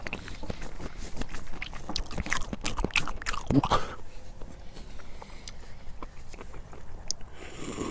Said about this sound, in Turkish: Nasıl şapırdatıyorum Allah bilir.